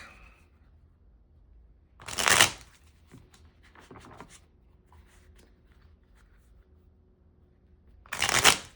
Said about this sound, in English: Do a quick shuffle of our deck.